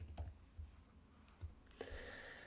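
Computer keyboard keys tapped as a command is typed into a terminal: a few sparse, quiet clicks spaced irregularly, ending in a slightly firmer keystroke, close by with no talking.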